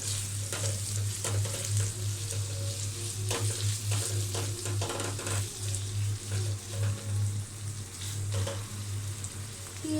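Minced chicken fries in a pan with a dense, continuous sizzle, while intermittent stirring scrapes cut through at an even level, close by with no talk.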